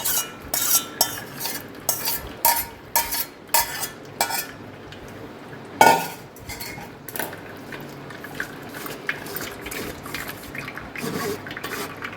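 Wet squishing and squeezing as tamarind pulp is extracted in a bowl, with clinks against its sides, in short rhythmic bursts that settle into a softer, steadier mashing.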